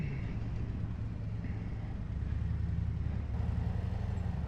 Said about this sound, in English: man, this traffic, I picked the wrong time, for sure